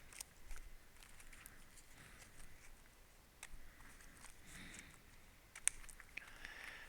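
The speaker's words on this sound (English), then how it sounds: "I need to shuffle the event deck." An event deck of board game cards for ISS Vanguard shuffled on a tabletop, quiet close riffling and soft clicks of cards in uneven bursts, with a sharper snap near the end and no talking.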